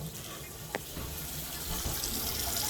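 Water runs from a sink faucet in a house with very weak water pressure, a soft steady rush with a brief clunk early on, no talking over it.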